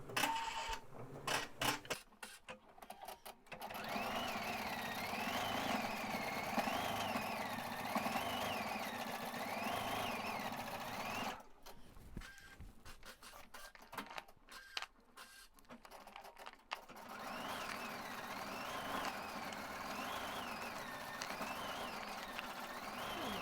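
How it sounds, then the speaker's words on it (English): A home embroidery machine stitches out a small blossom design in pink thread. Its motor whirs and needle taps repeat in a fast cycle, pausing and restarting between stretches, close and moderately quiet, with no speech. "Now let's see what stitches out next."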